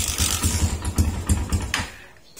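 A hard-starting motorcycle engine, fitted with a tri-electrode spark plug, sputters close by in uneven bursts, catching briefly and then dying away into quiet.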